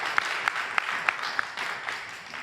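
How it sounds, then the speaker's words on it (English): Scattered, sparse applause from a debate audience, a handful of distinct sharp claps standing out over a low, steady room noise. "can we give him a round of applause?"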